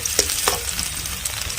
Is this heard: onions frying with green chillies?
yes